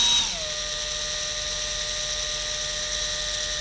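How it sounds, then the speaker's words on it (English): An electric drill spins up with a rising whine, then settles into a steady, high-pitched whir that holds evenly for several seconds, close and alone, with its speed held back by a finger on the chuck. "Then I'm going to throttle the drill with my finger."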